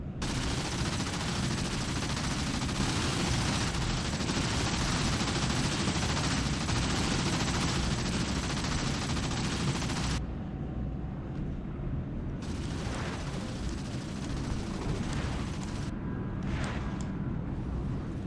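Rapid anti-aircraft cannon fire from an SA-19 air-defence system in the DCS combat simulator, a dense, continuous loud stream of bursts that drops briefly then resumes in shorter volleys.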